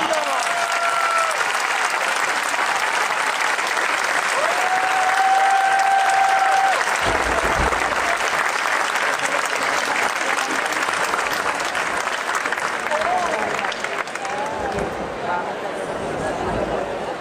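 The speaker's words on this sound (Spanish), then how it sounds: "Pido un fuerte aplauso para los homenajeados de hoy," Sustained, loud crowd applause at a town commerce festival celebration honouring two people, steady and dense throughout with a faint tone and background voices mixed in.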